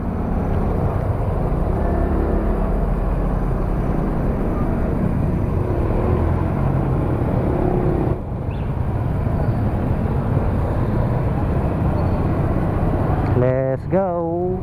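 Road traffic near Rosales Public Market, a dense constant rumble of engines and street noise, fairly loud, ending with a short rising horn-like tone.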